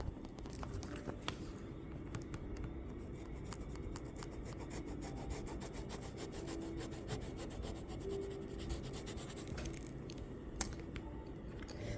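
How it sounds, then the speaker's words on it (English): Soft, continuous scratchy rubbing of pencils on paper, quiet and close, with faint taps and shifts throughout. "Let's grab a group of pencils and begin coloring."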